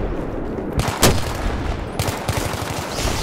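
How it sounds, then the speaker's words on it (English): Gunfire in a Battlefield 3 match on the Seine Crossing map, aimed at a tank: a steady roar of shooting with louder bursts and cracks near the middle and later on, sounding close. "I'm shooting at the tank, but I need ammo"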